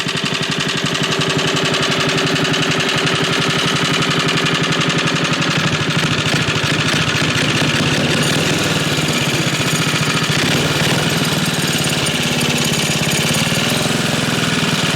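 A small engine idles after carburetor tuning and a new coil and kill switch, a loud, close, steady rapid chugging beat running throughout with no talk.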